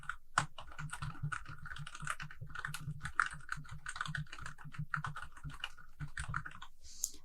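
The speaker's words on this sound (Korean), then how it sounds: "엔터 쳐주시면 됩니다." Rapid computer keyboard typing with dense, irregular key clicks and occasional heavier strokes like an Enter press, close and steady, no voices, while completing a PowerPoint certification exam task.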